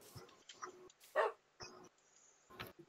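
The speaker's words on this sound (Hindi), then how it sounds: "चलो भाई इसे कुत्ते को टेम करते हैं" A tamed dog in the Minecraft video game gives several short barks and yips spaced through the moment, crisp and game-like, with a louder bark in the middle and no talking.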